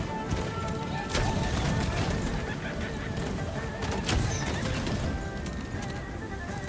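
A horse neighs in the video game Where Winds Meet, loud whinnies sounding over rapid clip-clop hooves and dense battle noise throughout.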